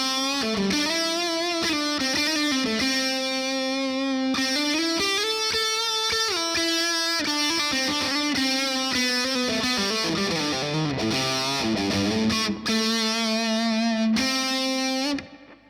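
Electric guitar through a Boss DS-1 distortion pedal, gain at 3 o'clock, bridge pickup, plays a sustained, heavily saturated melodic line with thick harmonics and long held notes, loud and continuous before cutting off at the end.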